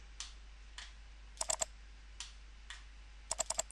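Computer keyboard typing a value, a few sparse close key clicks followed by quick bursts of three or four taps, crisp and quiet against a low background hum.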